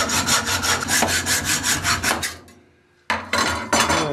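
A hand saw cuts through a boiled bone being sectioned for guitar nut blanks, making close, rhythmic rasping strokes in quick succession, with a short pause before the sawing starts again.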